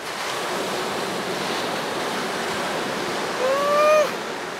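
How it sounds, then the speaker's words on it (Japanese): Ocean surf washing against the shore at Vase Rock on Xiaoliuqiu island, Taiwan, a steady broad wash of waves with wind rushing over the microphone and a brief high whistle-like tone near the end. "この波の音聞いてくださいよ。"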